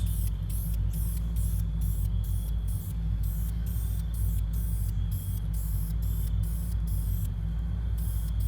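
A steady, continuous hiss of spray runs throughout, with a constant low hum and wind noise underneath.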